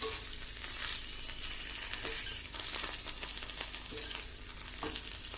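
Okra sizzling in a kadai, frying steadily in oil while being stirred, with scraping and light clinks from the utensil as it moves.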